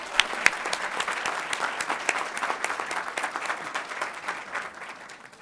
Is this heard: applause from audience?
yes